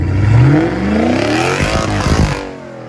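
A Jeep on an East Coast off-road trail revs hard with its exhaust valve open, a loud rising engine roar that peaks and then settles into a throbbing burble before dropping away near the end.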